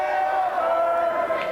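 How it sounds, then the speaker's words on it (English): A wrestling crowd at a 1994 ECW tag-team event chants in unison, a loud, dense roar of many voices that holds steady for the whole moment. "Ian Rotten getting the crowd going, chanting Jailbird, Jailbird"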